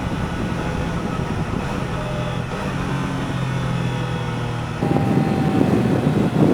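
A 2024 Triumph Daytona 660 three-cylinder motorcycle at speed on the autobahn, a steady engine drone with a whining tonal hum under rushing wind noise that swells louder near the end.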